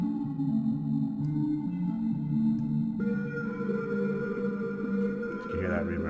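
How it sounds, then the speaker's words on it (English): Deep, swelling reverb from the Melted Vibes plugin washing over sustained tonal music, the tail thickening and smearing after a few seconds, then a low sustained tone settling in near the end. "You can hear that reverb really get deep when you change it there"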